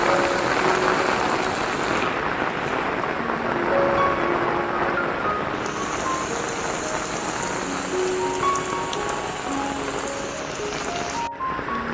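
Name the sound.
heavy rain with strong wind at Marine Drive, Kochi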